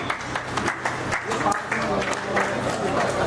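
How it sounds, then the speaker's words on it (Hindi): Loud clapping from a crowd welcoming a guest at a DJ sound association gathering in Meerut, with voices talking over the applause throughout. "ताली वाली बजा दिया भाई, जोरदार ताली"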